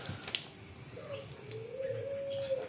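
A captive zebra dove (perkutut) coos softly at mid distance, with a long drawn tone and a few short notes over a quiet background hum.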